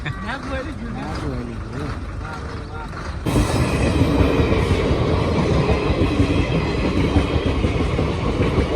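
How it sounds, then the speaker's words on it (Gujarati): A train rumbles past close by, a loud steady roar of wheels and carriages that swells suddenly partway through, with people talking before it arrives. "ટ્રેન આવી ગઈ છે"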